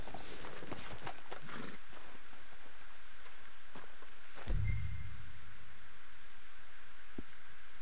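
Horse hooves clop in the Red Dead Redemption 2 video game: a few sharp knocks come early, then the hooves fade into quiet outdoor ambience with a single soft thud near the end.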